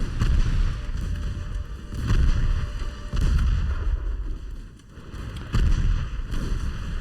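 Naval gunfire and shell impacts from Ultimate Admiral Dreadnoughts roll in repeated heavy booms every second or so over a constant low rumble, loud and dense, with no voices.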